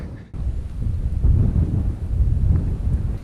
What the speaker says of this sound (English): hell, it is windy just here.